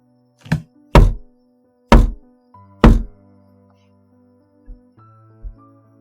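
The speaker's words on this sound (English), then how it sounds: "the sudden loud knock coming from the back door" Four loud, heavy knocks thud against a back door at uneven intervals, followed by two softer bumps, with a faint hum in an otherwise quiet room.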